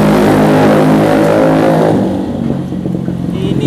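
Loud, close revving of a Honda CB 150 motorcycle engine freshly rebuilt after an overhaul, a sustained roar that eases off partway through and settles into a rougher idle.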